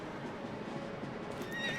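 A horse neighs in Zelda: Twilight Princess HD, a shrill whinny rising near the end over a busy bed of game sound, with hoof clatter mixed in at moderate, somewhat distant loudness.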